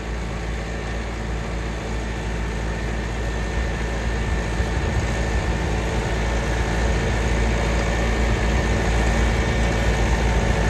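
A tractor running a 53-blade rotavator through a paddy field, its engine droning steadily and loudly with a dense low rumble and broadband churning noise throughout, no pauses.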